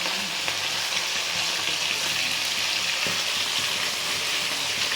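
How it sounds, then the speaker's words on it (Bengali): Fish fry in white oil in a pan, a loud, dense, continuous sizzle that stays close and even throughout, with no voices. "চলুন, মাছগুলো ভালো করে ভাজা হোক।"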